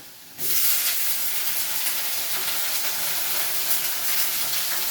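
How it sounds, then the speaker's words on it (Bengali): Chopped onions drop into hot oil after fried potatoes, setting off a sudden loud burst of hissing sizzle. The sizzle stays strong and steady, close by. "কুচিয়ে রাখা পেঁয়াজগুলো দিয়ে আবার একটু ভেজে নেব"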